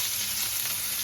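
Italian sausage frying in oil on medium heat gives a steady, close, hissing sizzle that fills the whole brief moment with no voices.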